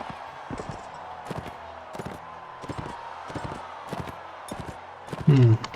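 Horse hooves thud in a steady, repeating gallop rhythm in the Mount & Blade: Warband battlefield, moderately close over a constant background hum, ending in a brief louder burst.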